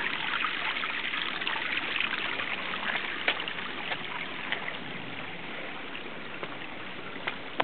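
A stream flowing strongly across a pool, carrying leaves along, giving a steady full rush of moving water with small splashes and gurgles, close and continuous with no voices.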